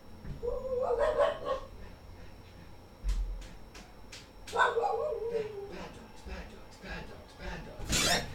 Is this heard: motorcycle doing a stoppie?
no